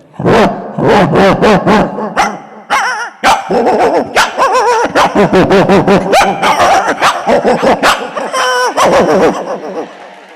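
A voice imitates a whole pack of dogs barking, a rapid, loud string of overlapping barks, yips and whimpers delivered close up with almost no pauses.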